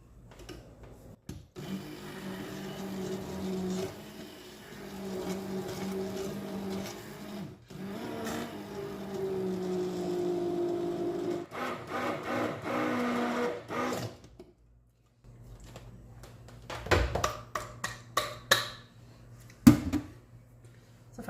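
A kitchen blender purees cooked spinach soup in a loud, steady whir lasting about fourteen seconds, then falls silent before a few sharp clatters and knocks near the end.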